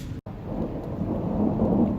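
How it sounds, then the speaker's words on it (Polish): Low rumbling thunder rolls beneath a steady hiss of rain during a thunderstorm in Peru, broken by one very short gap near the beginning. "słyszycie to? To jest burza."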